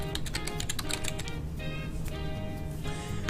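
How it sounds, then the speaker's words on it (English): Rapid keystrokes on a computer keyboard clatter close by, coming in quick bursts with brief pauses between them as a short word is typed, with no voices. "go to your search box and type in regedit"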